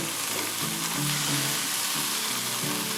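Frozen chicken breast thawing as it sears in a frying pan over medium heat: a loud, steady, close-up sizzle with a faint scrape as it is flipped.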